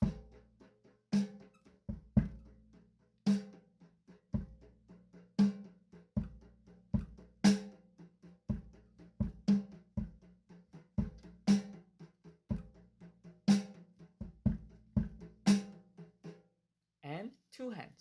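A drum kit plays a slow one-handed sixteenth-note beat: evenly spaced, crisp hits with regular low thumps from the bass drum, close and clear with no talking over it.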